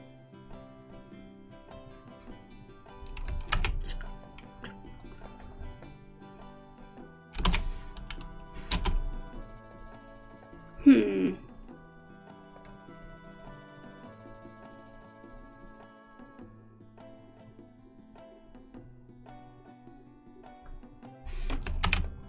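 Computer keyboard typing while a bot command is being written, with scattered bursts of keystrokes and clicks separated by quieter pauses, close and moderately loud, with no talking.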